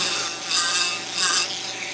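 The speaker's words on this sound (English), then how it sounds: "I'm going to round the back of this crappie off with a real rough grinder here." A rough grinder, a Fordham tool, rounds off the back of a wooden crappie decoy with a loud, continuous abrasive whine that swells and eases as it is worked, with no talk.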